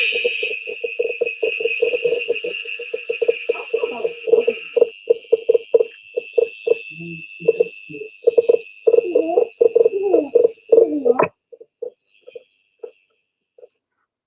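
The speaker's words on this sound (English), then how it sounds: "This is all the cicadas that we caught today." Cicadas caught and held in a container give off a dense, rattling buzz made of rapid pulses and a steady high whine. The sound comes up close, then breaks off suddenly, leaving a few scattered buzzes.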